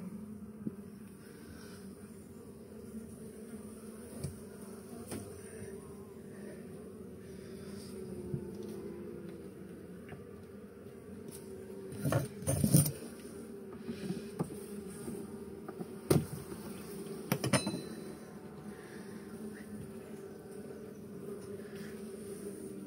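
Honey bees buzz softly and continuously in an open hive frame during a spring inspection, with a few closer fly-bys and light knocks of handling the frames.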